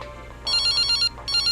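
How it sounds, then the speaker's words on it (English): A phone rings in the video game Something's Wrong With Sunny Day Jack, two bursts of a bright electronic trill separated by a short pause. The ringing is loud and clear over a low ambient hum. "My phone rings."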